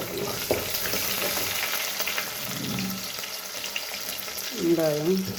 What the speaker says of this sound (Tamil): லேசாக அந்த கடலைப்பருப்பு, கடுகு எல்லாம் வறுபட்டு, பச்சை மிளகாய் போட்டு விட்டு கறி வெங்காயம்